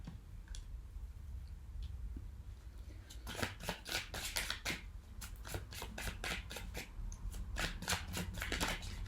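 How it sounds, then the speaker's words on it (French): Tarot cards are shuffled and laid out, quiet at first, then a run of crisp, rapid riffling flicks and soft slaps of cards, close but faint over a low room hum. "je pose les cartes et je vous les montre"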